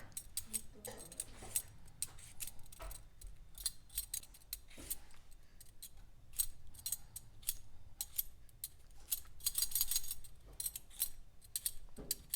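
Potatoes are peeled with a sharp hand peeler, giving quiet, close, quick scraping strokes in irregular bursts over a soft background, with no talking.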